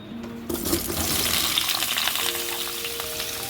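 Small diced potatoes frying in hot oil, a dense close sizzle that swells once they hit the pan and holds steady, with no talking over it.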